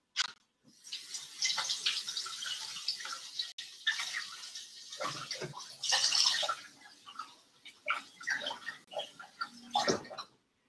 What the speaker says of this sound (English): And then I'm gonna wash my hands.